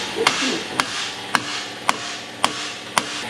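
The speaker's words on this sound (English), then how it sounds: "So they're taking the X pipe off." Mechanics hammering while removing the exhaust X pipe from a Corvette Z06, six sharp metallic blows at a steady pace of about one every half second, fairly loud and close in a workshop.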